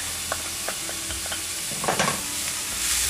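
Garlic and onions sizzle in hot oil over high heat in a pan, a steady bright frying hiss with a few soft stirring scrapes and a brief louder surge near the middle.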